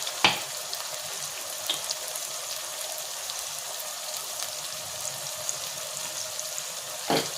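Eggplant and neem leaves fry in oil with a continuous, even hiss and crackle close by, with brief utensil clicks at the start and end and no talking.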